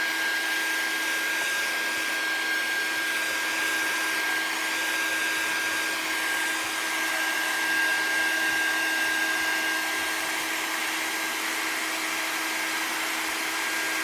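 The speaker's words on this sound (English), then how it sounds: "I'm going to come back and I'm going to heat set it again" A handheld heat tool blows a steady, loud, unbroken whirring hiss for the whole stretch as it heat-sets wet ink on paper in a floral card-making project, with a constant whine running beneath it and nobody speaking.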